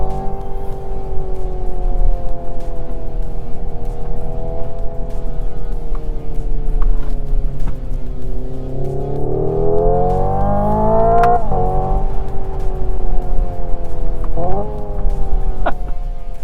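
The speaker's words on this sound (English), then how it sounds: "Hyundai has made it sound like a boosted 4-cylinder and not a V8 or a V12" Hyundai Ioniq 5 N electric car playing a simulated boosted four-cylinder engine note, a loud droning tone that rises in pitch as it revs, then drops sharply with quick shift-like blips, close and alone.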